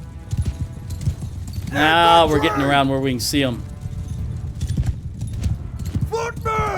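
Galloping cavalry horses in the video game Mount & Blade II Bannerlord give a continuous rumble of rapid hoofbeats throughout, with someone talking over them.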